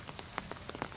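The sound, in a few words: rain falling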